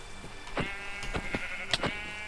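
Sheep in the video game Minecraft bleat several times in short, separate calls, heard clearly at a moderate level with no talking over them.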